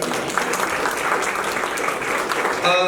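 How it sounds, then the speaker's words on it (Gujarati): An audience claps at a school's tenth-anniversary celebration, a dense steady burst of applause from many hands lasting a few seconds. "તો એમના માટે આપણે જોરદાર તાળી પાડીશું."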